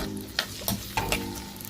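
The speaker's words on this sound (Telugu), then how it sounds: "ఇవి చక్కగా వేగిపోవాలి" Onions and green chillies frying in hot oil in a pan, a steady close sizzle with a few stirring clacks and scrapes of a spoon.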